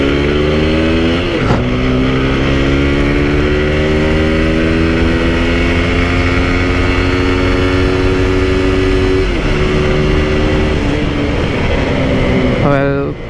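A TVS Apache RTR 160 4V motorcycle accelerates hard toward its top speed, engine note climbing steadily through the gears with brief drops at shifts, loud and close with heavy wind noise throughout.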